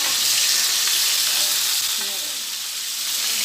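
Meat browns in a hot frying pan with a loud, steady sizzle and crackle that fills the whole stretch, close and continuous.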